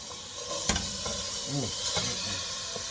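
Ground turkey cooking in a pot on the stove: a steady sizzling hiss with a few stirring scrapes and knocks, close and continuous.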